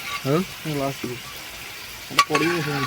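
Egg tadka frying in a pan, a steady sizzle running underneath several people talking in bursts.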